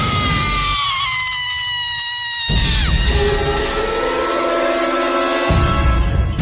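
A piercing, drawn-out scream sound effect in a Hindi horror audio story, rising and bending with harmonic wails, then shifting into lower sustained tones over dark ambient noise.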